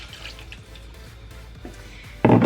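Cold water is poured into a bowl of cake batter, a quiet liquid trickle with faint dripping, then a sudden louder splash at the very end.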